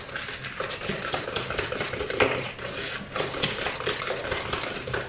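Whisk or spoon beating egg yolks, caster sugar and corn flour together in a bowl for custard, a steady close scraping and clinking stir with no speech.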